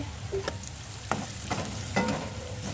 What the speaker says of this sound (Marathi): हे बघा असाच कांदा भाजायचा